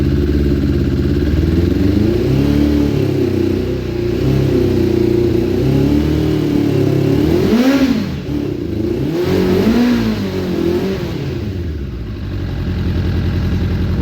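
A Suzuki Bandit 600 motorcycle engine runs rough with the choke on, not firing on all cylinders, a loud, uneven close-up chug that surges and dips around the middle without settling into smooth revs.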